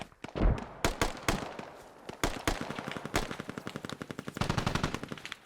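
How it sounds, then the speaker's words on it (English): DShK heavy machine gun fire in the Squad military video game, loud sharp bursts of rapid shots, some single cracks early then sustained rattling volleys, with no talk over it. "it's sounds like a Dishka"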